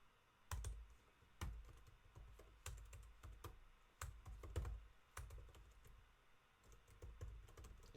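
Steady typing on a computer keyboard while writing code for an Advent of Code puzzle solution. Close keystrokes come in quick clusters with deep thumps on heavier presses, filling the whole stretch without talk.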